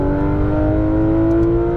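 An exotic race car accelerates hard on a track, a loud, close, sustained engine drone with strong harmonics and a steady pitch through one upshift.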